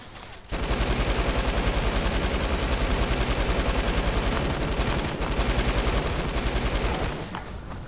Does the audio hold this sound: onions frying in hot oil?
no